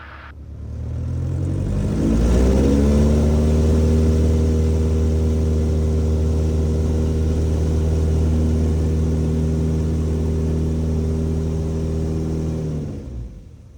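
Small single-engine backcountry airplane revving up to takeoff power, a loud steady propeller-engine drone with rising harmonics that holds for about ten seconds before the throttle is cut.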